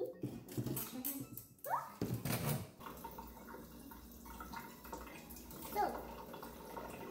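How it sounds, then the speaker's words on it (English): A tap runs into a sink while hands are washed, a steady close splash and trickle with a few squeaky handling noises and a voice briefly speaking. "Let's go wash our hands."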